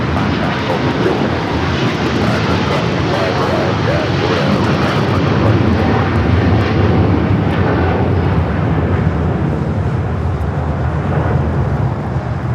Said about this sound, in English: That is Cathay Pacific 885 taking off to Hong Kong on the 777-300ER.